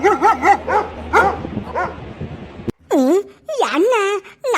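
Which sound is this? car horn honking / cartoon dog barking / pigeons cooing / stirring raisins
cartoon dog barking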